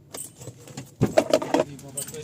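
Car keys jangle in a brief, close metallic rattle as they are handed over, a few quick clinks bunched together with faint voices and background noise around them.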